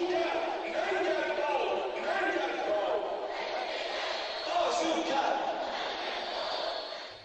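Large crowd at an Iranian pro-government rally chanting slogans in unison, a dense continuous roar of many voices rising and falling in waves, loud and steady throughout with no pauses.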